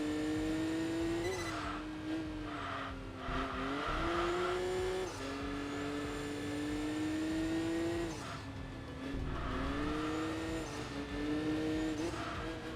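Racing cars in Enthusia Professional Racing roar continuously with loud, reverberant exhaust notes, the pitch climbing and dropping through repeated gear changes over a dense engine drone.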